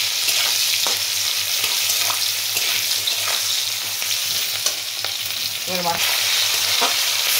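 Hilsa fish oil sizzles and crackles in a curry of hilsa head and Malabar spinach, a loud, continuous fry with occasional stirring clinks; a single short spoken word is heard near the end.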